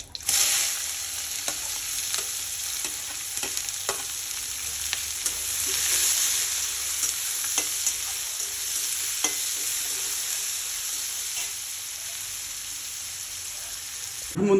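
Onions frying in oil in a pan with bay leaves, cinnamon, cardamom and cloves for a Bengali-style chicken dish, a steady bright sizzle with occasional utensil clicks, continuous and fairly close, no voices.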